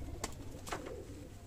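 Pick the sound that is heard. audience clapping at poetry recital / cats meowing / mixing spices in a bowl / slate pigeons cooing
slate pigeons cooing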